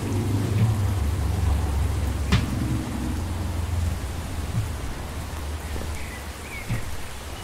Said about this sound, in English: It's raining this time.